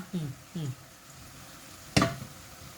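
Pork offal dry stir-fried with leaves in a pan gives one sharp, brief scrape and clatter of a utensil against the pan, fairly faint, after a couple of short voice sounds.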